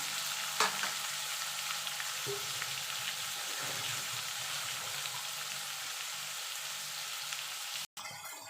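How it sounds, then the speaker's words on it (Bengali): Prawns sizzle and fry steadily in a pan while being stirred, a continuous crackling hiss with a few light knocks of the utensil, no talking. "একটুখানি নাড়াচাড়া করে নেবো যাতে চিংড়ি মাছের রঙটা একটুখানি চেঞ্জ হয়ে যায়"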